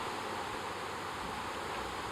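Steady rain in Minecraft, a soft, even hiss of falling water that holds unchanged throughout, faint and alone with no voices.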